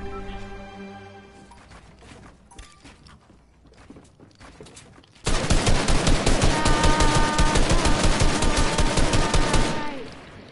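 Gunfire in a Fortnite box fight: after scattered quieter game sounds and footsteps, a loud, sustained burst of rapid automatic fire runs for about five seconds, close and dense, then cuts off.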